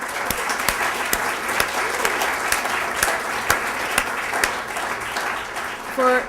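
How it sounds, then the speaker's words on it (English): Steady applause from a large crowd at a Solar Decathlon house presentation, a dense wash of clapping that holds for several seconds, with a brief voice at the end. "Please join me in a round of applause"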